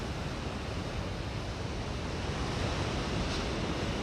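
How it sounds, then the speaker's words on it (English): Wild ocean surf breaking on a driftwood-strewn beach at Moonstone Beach, a dense, continuous wash of crashing and rolling water with some wind noise, steady and fairly distant, no voices. "You can see we've had some pretty wild waves recently."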